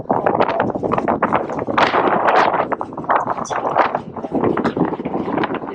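Strong gale-force wind at a model glider launch point for an X-Models Old Timer Blade, loud buffeting gusts battering the microphone in continuous rough bursts, close and unrelenting.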